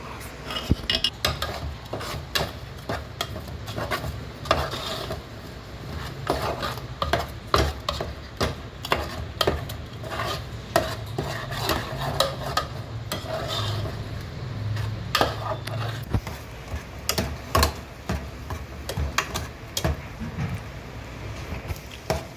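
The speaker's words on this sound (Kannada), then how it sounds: "ಹಸಿ ವಾಸನೆ ಹೋಗೋ ತನಕ ಮಸಾಲೆ ಸ್ವಲ್ಪ ಹುರ್ಕೋಬೇಕು" Masala paste for a fenugreek-leaf buttermilk curry (menthe soppu majjige huli) being stirred and fried in a pan. A spoon clatters and scrapes against the metal in an irregular, steady rhythm over a faint low frying hiss.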